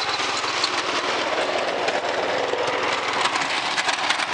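Snow blower engine running steadily while clearing sidewalks and a driveway, a loud, close, unbroken roar with a gritty churning texture and no pauses.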